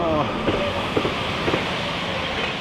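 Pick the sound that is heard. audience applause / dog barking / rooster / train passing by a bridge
train passing by a bridge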